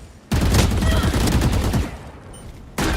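Rapid bursts of automatic gunfire from the Valorant video game, loud and dense, a sustained spray lasting over a second, then a pause before another burst begins.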